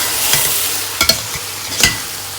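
Carrot halwa made with milk powder is stirred in a pan, a steady sizzle broken by a few sharp scraping strokes of the spoon, close and loud with no talk.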